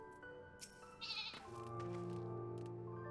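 A single sheep bleats in Final Fantasy XIV, a short wavering cry heard close over soft game music that swells and continues afterward.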